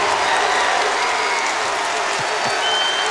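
Basketball crowd at the 2018 America East Championship between UMBC and Vermont, a dense, loud wall of applause and cheering filling the arena without letup.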